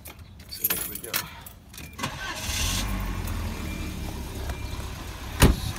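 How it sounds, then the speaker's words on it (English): Keys jingle, then a Volvo 740 engine cranks briefly and catches, settling into a steady idle rumble, with a brief click near the end. "Let's just start the engine, see how it runs."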